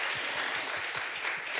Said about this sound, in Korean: 우리 이무현 목사님께 감사의 박수 한번 올려드리겠습니다